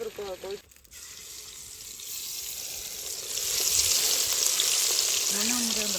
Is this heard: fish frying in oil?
yes